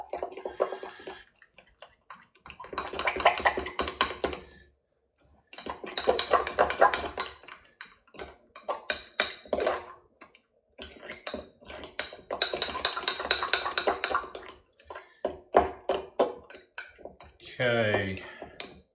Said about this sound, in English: and then give that a good old mix around